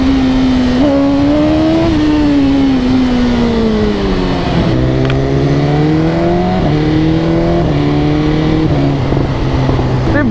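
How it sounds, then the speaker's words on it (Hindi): A Hayabusa motorcycle rides through traffic, its engine note droning loud and steady, rising and falling with throttle changes and gear shifts throughout. "बाइक चल रही है ट्रैफिक में बिल्कुल शांति से"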